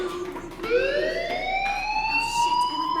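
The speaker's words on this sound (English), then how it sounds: "do you hear that fire alarm? That means you should be outside." A fire alarm wails in the game Life is Strange Remastered, a loud rising siren-like tone that climbs and then holds steady for several seconds.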